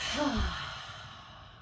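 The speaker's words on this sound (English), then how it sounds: "Take a deep inhale. As you exhale, release." One deep, voiced exhale from a person in a yoga class, heard up close as a long sigh that falls in pitch and fades gently into quiet.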